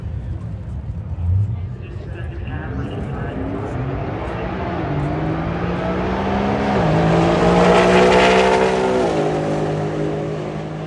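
Drag race car accelerating hard down the strip on the final day of Sick Week, its engine climbing through gears as it passes, loud and rising then fading, with crowd talk underneath.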